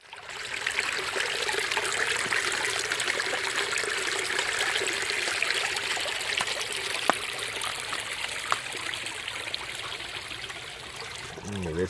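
A woodland stream trickles and burbles over rocks in a continuous, gentle flow. The moderate, close babble holds steady, with a few faint knocks and a brief voice at the very end.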